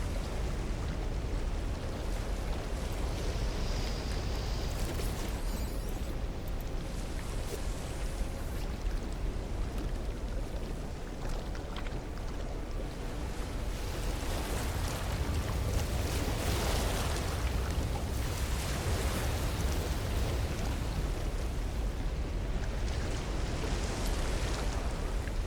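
Choppy ocean waves wash steadily around a fishing boat on an alien world in No Man's Sky, a continuous broadband surge and splash with gusts of wind, no voices over it.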